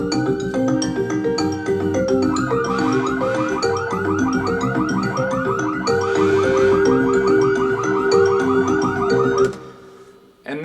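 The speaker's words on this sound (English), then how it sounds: "And here comes the sirens and the horns." Theatre sound effects for a play: layered wailing sirens and repeated car-horn blasts over a rhythmic musical bed, loud and continuous before cutting off near the end.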